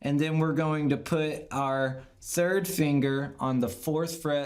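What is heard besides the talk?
None of the usual background noises is heard.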